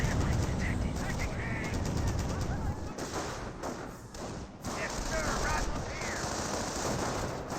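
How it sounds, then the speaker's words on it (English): Dense battlefield gunfire in the World War II strategy game Company of Heroes, with Panzer Grenadiers firing on Rangers: continuous rattling rifle and machine-gun bursts with thuds, under steady talk. "we've got the Rangers now receiving a bit of fire from the Panzer Grenadiers"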